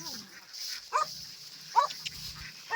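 A dog gives three short, separate barks or yips, spaced about a second apart, at moderate distance over quiet farmyard background.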